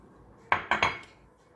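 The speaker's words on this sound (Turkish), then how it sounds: "Turşularımı katıyorum" Pickles are tipped into a cauliflower salad in a dish, making three or four quick clinks and knocks close by, with quiet before and after.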